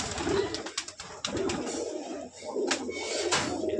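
White Rajshahi Giribaz pigeons coo in low, throaty rolls, several overlapping calls repeating steadily at close range throughout.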